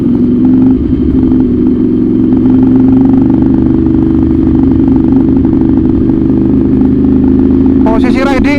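A Ducati Monster 796 with a racer handlebar rides along, its engine droning loud and steady throughout, with a rider's voice coming in briefly near the end.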